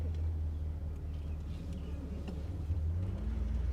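A 1965 Ford Galaxie 500 XL, built in Canada, cruises smoothly with a steady low engine rumble and road drone inside the cabin, with no talk over it.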